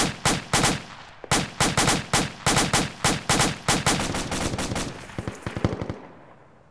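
Rapid bursts of automatic gunfire in Arma 2, loud and close, firing in quick rhythmic volleys of several shots each for about six seconds before cutting off.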